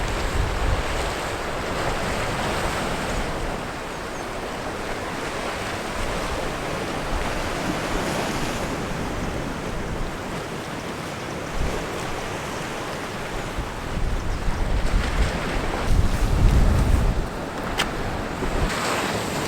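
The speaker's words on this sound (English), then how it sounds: "down to the beach with the waves crashing in" Ocean waves crash steadily onto a sandy beach below a set of steps, a continuous wash of surf mixed with gusty wind noise, swelling louder near the end, with no voices.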